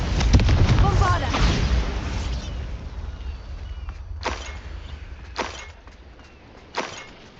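Bombarda explosion spell cast in Hogwarts Legacy, a loud booming blast at the start that rumbles and fades, followed by several sharper, quieter spell bursts spaced a second or so apart.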